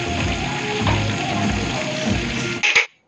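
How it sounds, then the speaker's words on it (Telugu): Fish pieces frying in hot oil in a home kitchen, a steady crackling sizzle that runs throughout, ending in a brief louder clatter before going quiet. "ఆయిల్లో ఫిష్ ముక్కలు అయితే వేసుకున్న తర్వాత రెండో వైపు కూడా టర్న్ చేసుకొని అయితే మంచిగా ఫ్రై అయ్యే వరకు"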